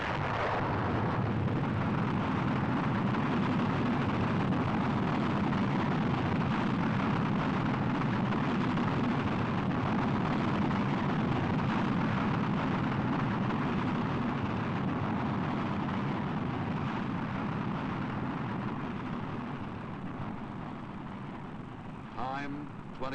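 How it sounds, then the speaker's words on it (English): A Jupiter C rocket lifts off at Cape Canaveral carrying the Explorer satellite in 1958, a continuous heavy roaring rumble that holds loud for about twenty seconds before starting to fade as it climbs away. "Firing command. Jupiter C is coming to life."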